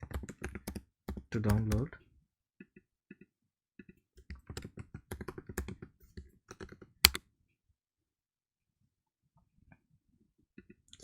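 Typing on a computer keyboard to log in, with quick close clusters of clicky keystrokes in bursts separated by pauses, then a few isolated key taps; a voice speaks briefly near the start.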